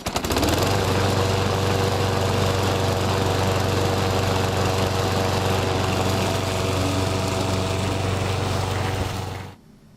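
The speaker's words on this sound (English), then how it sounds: "Another type of interlock is the handle-mounted control bar found on modern walk-behind lawn mowers." A small petrol walk-behind lawn mower engine runs loud and steady close by, a rough chugging drone that cuts off abruptly near the end.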